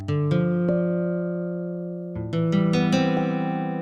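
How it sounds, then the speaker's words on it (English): Plucked nylon-string guitar tones from a Yamaha PSR-E463 digital keyboard, a few sustained notes and chords with soft attacks, played alone with no voices. "have a listen to the nylon guitar sound on the Yamaha PSR-E463"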